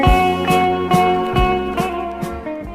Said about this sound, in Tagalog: Itay pa'y ngagriring to'y cellphone.